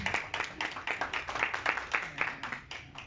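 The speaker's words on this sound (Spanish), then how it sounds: "Demos un fuerte aplauso." Student audience at a university anniversary ceremony for the URUS organization applauding with steady, fairly even claps, moderately distant and continuous throughout.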